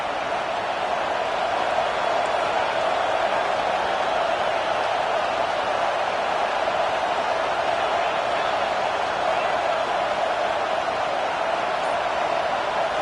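A home crowd at a football game roars in a steady, sustained wall of noise on a third-down defensive stand, loud and continuous without breaks.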